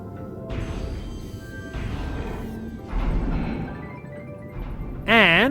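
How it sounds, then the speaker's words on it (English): A door opens in the video game Metroid Prime Remastered with a series of loud mechanical clanks and whooshing bursts, followed by a bright warbling electronic tone at the end. "So we open this door."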